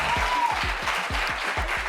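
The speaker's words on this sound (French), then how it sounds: "Applaudissez bien pour ce verre." An audience at a comedy show claps in a close, loud, even burst of applause that continues throughout, with faint voices mixed in.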